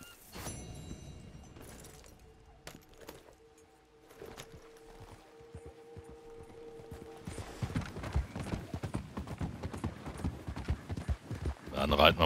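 Horse hooves clip-clop steadily while riding in the video game Red Dead Redemption 2 Online, growing louder and denser in the second half over ambient game sound.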